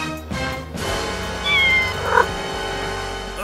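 A cat meows in two short, clear calls, near and moderately loud, over a faint background hum, as a kitty stuck on a roof in a toy play scene.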